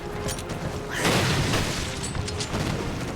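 An explosive barrel blows up in the video game Resident Evil Revelations, a loud booming burst that swells about a second in over steady game noise and then lingers as a rumbling crash.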